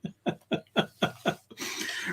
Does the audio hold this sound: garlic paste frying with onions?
no